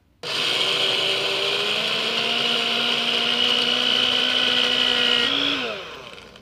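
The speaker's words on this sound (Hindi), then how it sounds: "मूंगफली को 2 दफ़ा मैं ग्राइंड करूँगी, 2 दफ़ा डिवाइड करके।" A kitchen mixer grinder runs steadily on peanuts, a loud continuous whirring motor with a grinding rasp that holds for about five seconds, then pitches up slightly and winds down as it is switched off.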